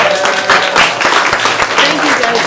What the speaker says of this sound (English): All right, round of Thank applause